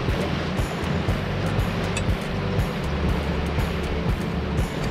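An Orphie 29 electric trimaran with a center motor runs across the water, producing a steady rush of hull and water noise with wind buffeting the microphone throughout.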